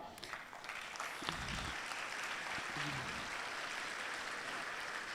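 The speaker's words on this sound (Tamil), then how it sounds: "நல்லா கைத்தட்டலாம்." Audience at a school inauguration event clapping, a steady wash of applause that swells after a brief opening and holds evenly throughout, fairly faint and distant in the hall, with no speech.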